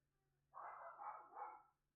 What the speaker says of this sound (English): Well, folks, you hear the dogs.